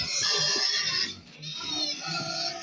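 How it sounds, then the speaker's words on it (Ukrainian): Shrill, continuous pig squeals dominate, dipping briefly in the middle before rising again, fairly loud and close with a low grunting rumble beneath. "Свинки кричать, зараз свинкам теж щось дамо."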